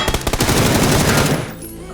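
Rapid automatic gunfire in PUBG on the snowy Erangel map, a loud close burst of shots in quick rhythm for over a second before cutting off into quieter game ambience.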